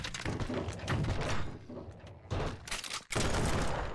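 Bursts of gunfire while shooting at crawler enemies during a horde night in the survival game No One Survived, loud repeated volleys with a brief gap before a final sustained burst.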